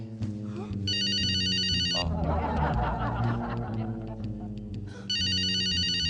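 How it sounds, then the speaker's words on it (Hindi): A mobile phone rings with a trilling electronic ringtone in two bursts separated by a pause, and people talk and chuckle between and under the rings. "मोबाइल की बेल बज रही।"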